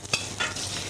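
Small shrimps frying in olive oil in a pan, a steady close sizzle with a couple of brief scraping stirs.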